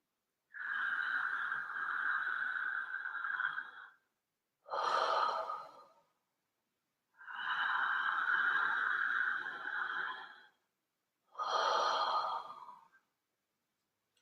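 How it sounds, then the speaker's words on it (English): Slow, relaxed breaths during a guided breathing exercise: four long, airy breath sounds, each lasting a few seconds, with longer soft exhales and shorter inhales, close and clear in a quiet room with no talking. "Find relaxation in that exhale."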